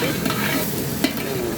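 Food frying golden brown in a pan is stirred, steady sizzle with a scraping stir and one brief knock, close and fairly loud.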